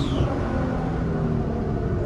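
Exhaust of a 700 hp Nissan GT-R popping and crackling with flames, a steady loud rumble close by with no talking.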